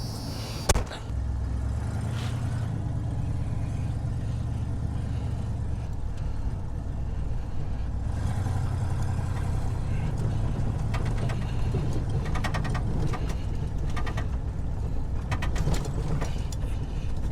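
The engine of a 1985 Ford Bronco snow plow, a poorly running truck, idles with a steady low rumble close by for a long stretch, with occasional clanks and mechanical rattles over it.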